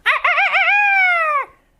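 A single loud, close rooster crow, warbling at first and then holding a long clear note before cutting off.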